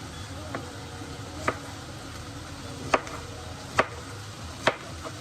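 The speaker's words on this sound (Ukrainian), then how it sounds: "Ріжемо на такі незамисловаті квадратики, прямокутнички, трапеції." Knife blade striking a cutting board as pumpkin is cut into cubes, a handful of sharp separate chops spaced about a second apart over quiet room noise.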